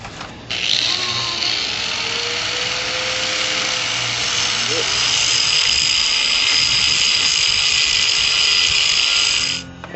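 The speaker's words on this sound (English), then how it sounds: "I cut a piece of aluminum and I got this line going here and I'm just busting it down with a file" A hand file working a cut piece of aluminum for a hot rod part, a steady rasping hiss that runs continuously for about nine seconds, close up, with no clear pauses between strokes.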